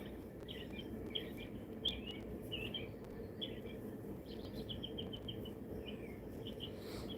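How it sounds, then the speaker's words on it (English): Outdoor birds chirp in short, repeated bursts, faint and somewhat distant over a steady hiss of background noise, with a soft insect-like drone underneath. "The birds are chirping."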